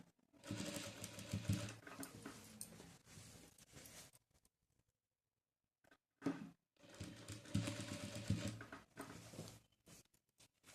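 A sewing machine stitches pleats onto the back neck of a blouse trimmed with saree border, running in two long steady whirring bursts separated by a quiet pause and a brief start.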